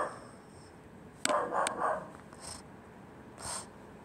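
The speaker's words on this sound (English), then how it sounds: "Just ignore the dog in the background" A dog in the background gives a couple of short muffled barks and a snort, fairly faint and distant, with no talking.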